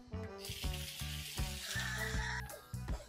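Chopped tomatoes hit a hot pan with shrimp, giving a bright, steady sizzle up close, broken by scraping stirs and clinks of the utensil, no talking.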